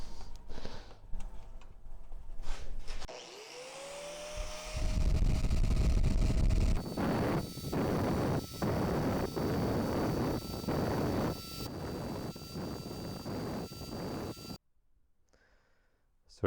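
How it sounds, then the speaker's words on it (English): An angle grinder clamped down as a makeshift bench grinder rounds the edges of a steel levelling file, a loud steady grinding roar that rises sharply, then breaks into repeated short passes before cutting off. "you can make a little makeshift bench grinder with your angle grinder"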